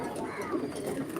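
Pigeons coo in a brief, close burst as they come to drink water set out in a bottle, with a steady background murmur underneath.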